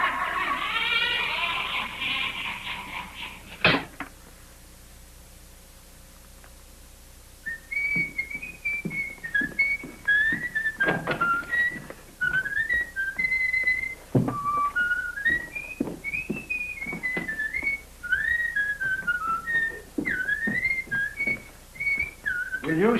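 A person whistles a lively, wandering tune with bright, sliding notes, close by, after a brief stretch of other sound and a quiet pause.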